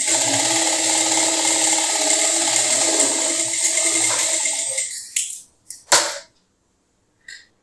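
A Musee power sewing machine set to stitch length three runs in a steady, loud mechanical whir for about five seconds, then stops with a few sharp clicks and knocks.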